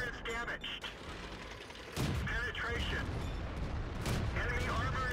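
In the World of Tanks video game on the El Halluf map, tank cannon shots boom and crack in several sharp bursts over a rumbling engine bed, while someone talks throughout.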